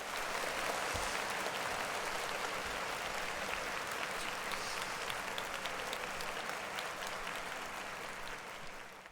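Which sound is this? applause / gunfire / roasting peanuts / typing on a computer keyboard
applause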